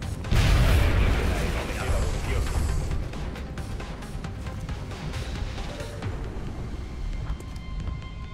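Weapon fire in the strategy game XCOM: Long War: a loud booming burst opens, then a rumbling, crackling decay lingers at a lower level for several seconds.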